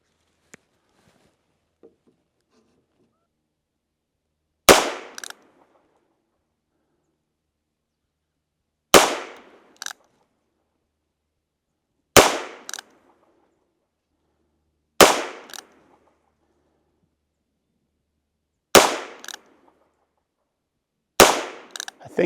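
Six loud gunshots crack at a shooting range, spaced several seconds apart with near silence between, each a sharp close report with a brief echo.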